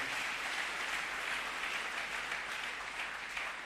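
A church congregation applauds during a worship service, a dense, steady wash of many hands clapping at once that carries evenly throughout.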